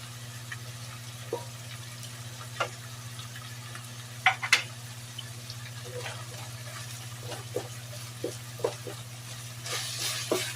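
Garlic frying in a pan with ground beef for afritada-style beef giniling, a faint soft sizzle with occasional stirring clinks and scrapes under a low steady hum.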